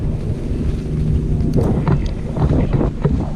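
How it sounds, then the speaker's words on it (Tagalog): Strong wind buffets the microphone in a steady roar during parasailing in Boracay, with water and boat noise underneath and a few brief excited voices. "Ang hangin!"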